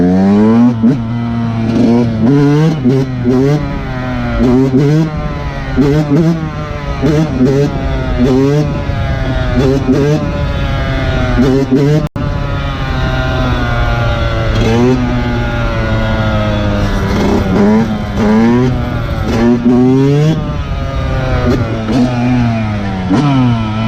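A Yamaha 125 YZ two-stroke motocross bike revs over and over for a wheelie, loud and close, its engine pitch climbing and dropping in repeated throttle bursts from start to finish.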